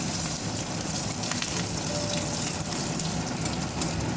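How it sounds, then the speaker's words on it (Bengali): Radhuni and black cumin seeds sizzle in hot oil left from frying pabda fish, a steady broadband crackle and hiss that holds evenly throughout, loud and close with no talking. "ওই তেলে আমি রাঁধুনি আর কালো জিরে ফোড়ন দিলাম"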